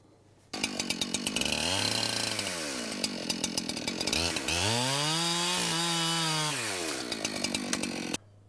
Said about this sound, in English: watching the chainsaw run back and forth